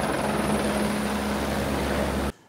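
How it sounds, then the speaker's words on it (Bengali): Helicopters fly over the Kedarnath route, a loud, steady rotor drone close by that stops abruptly near the end. "কারণ চারিদিকে এত হেলিকপ্টার"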